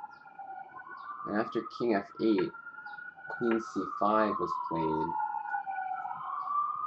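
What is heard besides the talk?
emergency vehicle sirens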